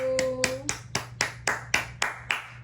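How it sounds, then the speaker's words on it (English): About nine sharp hand claps in a steady, evenly spaced rhythm, close and clear, with a faint tone underneath. "make sure y'all give Ryan that hand clap"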